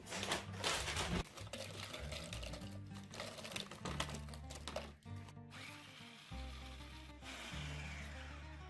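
Pork rinds are crushed into fine crumbs half a bag at a time, probably in a food processor, making a continuous rattling, crunching and rubbing noise at close range with uneven pulses throughout.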